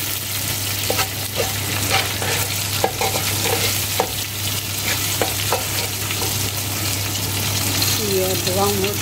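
Green chillies, cut into long strips, fry with browned onions in a pot for mutton yakhni pilao, giving a steady close sizzle with intermittent stirring scrapes and a constant low hum underneath.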